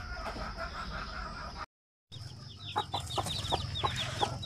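Chicks moved into a new cardboard brooder cheep and cluck close by, a rapid run of short repeated chirps over a faint rustle, cut off by a brief dropout in the middle.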